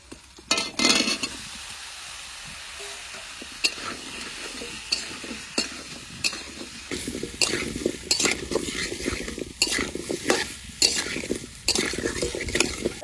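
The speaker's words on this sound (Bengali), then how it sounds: "এবার ওলগুলো দিয়ে দেবো কড়াইতে।" Elephant foot yam frying in a wok with spices, a sizzle running throughout while a utensil scrapes and clinks against the pan in repeated strokes. It sounds close and fairly loud, with no voices.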